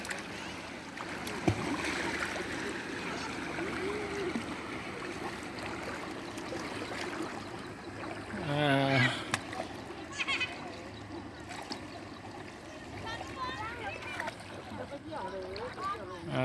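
Children splash and play in floodwater; gentle sloshing and splashes carry under nearby voices, with a brief louder splash burst midway.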